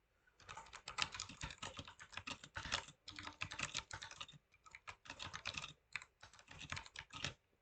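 Quiet, rapid typing on a computer keyboard: dense bursts of clicky keystrokes in runs separated by short pauses, close and alone.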